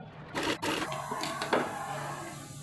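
A sewing machine stitches a baby frock in short mechanical bursts, whirring and rattling close by with brief pauses between runs.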